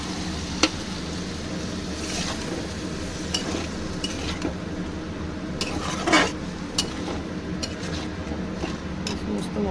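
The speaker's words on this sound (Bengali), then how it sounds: "মশলা থেকে তেল ছাড়া পর্যন্ত আমি মশলাটা কষাবো।" Spices sautéing in oil in a pan for shol mulo curry: a steady close sizzle with repeated scrapes and clinks of a stirring spoon against the pan throughout.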